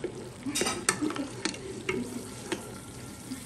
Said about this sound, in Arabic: هنا أضفنا البصل مع الثوم وبنحمس